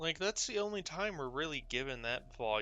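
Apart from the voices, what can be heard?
No everyday noise stands out behind the speech.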